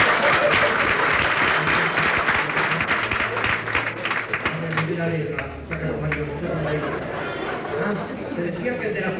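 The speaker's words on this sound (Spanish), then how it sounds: "Un aplauso cuando se llegan tarde." Theatre audience applauding at a 1983 revue show at Teatro Tabaris in Buenos Aires, dense clapping that is loud at first and then thins and fades over several seconds, with some crowd chatter mixed in.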